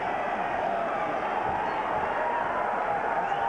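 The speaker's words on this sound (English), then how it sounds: "And that woke up the crowd." A boxing arena crowd roars in a steady, distant wash of cheering after a body shot, with no single voice standing out from the broad noise.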